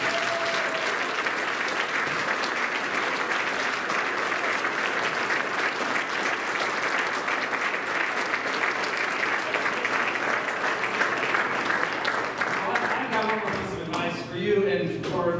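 Sustained audience applause at a college alumni awards ceremony, loud and steady throughout, fading slightly near the end as a voice begins to speak.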